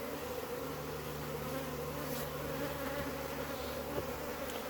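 Honeybees drone in a steady, dense buzz from an opened hive, a continuous near hum with no break across the whole stretch.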